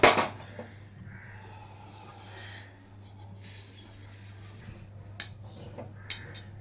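Roasted sesame seeds scraped out of a hot pan with a spoon, a sharp clank at the start followed by soft scraping and light metallic taps over a low steady hum.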